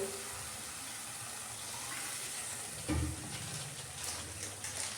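Water poured into a pan of sizzling, fried-down spice paste, a brief splash and a surge of hiss over steady low frying, close and fairly quiet.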